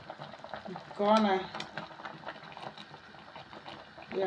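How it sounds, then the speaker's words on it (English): Maize boils in a pot with a soft bubbling rumble and light clatter close by, and a brief voice-like sound rises over it about a second in. "So let's continue boiling together."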